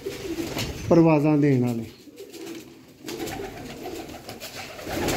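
Golden pigeons coo in a short throaty burst up close, then fade as someone speaks over and around them.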